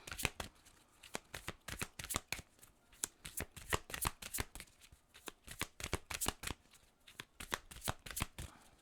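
Oracle cards are shuffled and drawn from a deck during a card reading: rapid, close riffling bursts come in quick repeated runs with brief pauses between, and no voice is heard.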